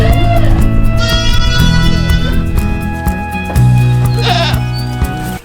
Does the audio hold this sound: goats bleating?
yes